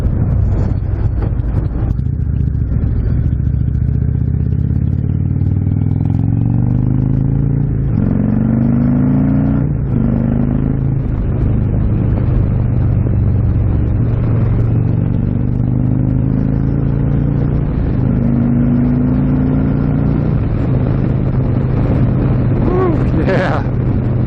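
Indian motorcycle fitted with a Stage 3 Thunderstroke 116 engine, riding at speed with a steady loud engine drone, rising and falling through gear changes, plus heavy wind buffeting; someone talks over it at times.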